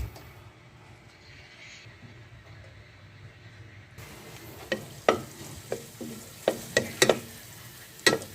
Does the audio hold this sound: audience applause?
no